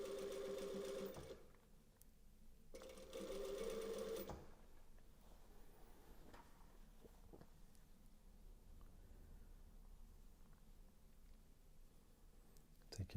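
A domestic sewing machine runs in two short, steady bursts while stitching binding onto t-shirt fabric, close and fairly quiet, followed by low handling noise and faint scattered clicks.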